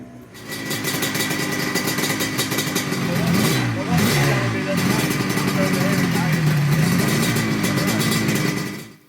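Yamaha TZ350 two-stroke racing motorcycle warming up at a Donington race meeting, its engine idling and blipping with rising and falling revs, with voices talking nearby.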